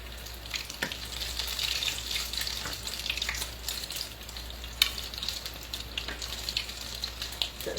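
Floured salmon patties fry in a pan of oil, sending up a soft, steady sizzle with scattered pops and crackles, close but fairly quiet, with no speech.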